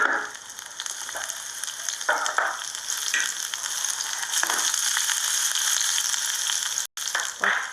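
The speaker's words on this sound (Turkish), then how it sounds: "He köfte kızartması yapıyor." Steady, close sizzling of meatballs frying in hot oil, a continuous crackling hiss with a few brief clatters from stirring and no talking.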